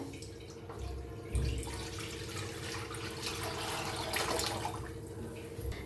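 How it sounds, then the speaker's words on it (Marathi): A cupful of water poured into a cooking pan, a soft splash followed by a trickling, dripping pour, heard close but fairly quiet against a low kitchen hum. "त्याच्यात ओतूया आपण एक जगभर पाणी घातलंय ते ओतून घेऊया"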